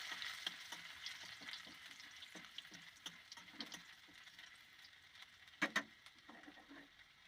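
Whole garlic cloves and chopped ginger frying in oil while being stirred, a soft continuous sizzle with light scrapes and clicks and a pair of sharper knocks near the end.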